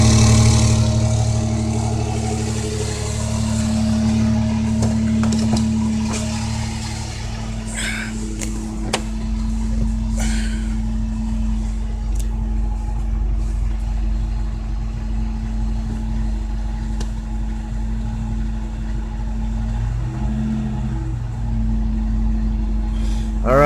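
A 1995 Toyota 4Runner (Hilux Surf) engine runs steadily after startup with a low, even idle hum, close and continuous, broken by a few brief clicks and knocks and one small shift in pitch near the end.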